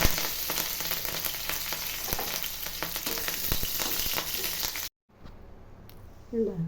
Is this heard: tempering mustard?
yes